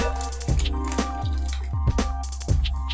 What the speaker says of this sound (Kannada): ನೀರು ಹಾಕ್ಕೊಂಡಿದ್ದೀನಿ